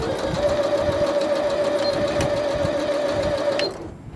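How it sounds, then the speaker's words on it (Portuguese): A Janome 1030MX sewing machine stitches a fabric mug rug with a steady, close, continuous whirring hum that stops abruptly near the end. No one speaks. "Foi aqui que eu comecei minha costura"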